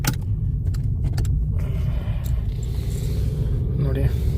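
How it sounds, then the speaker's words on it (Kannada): A car rumbles low and steady on the road, close by and continuous, while a person talks over it. "ನೋಡಿ ಗಾಡಿ ಹೋಗ್ತಾ ಉಂಟು."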